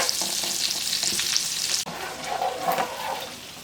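Butter melts and sizzles in leftover oil in a pan, a steady close frying hiss with soft crackles and a brief scrape midway, no voices.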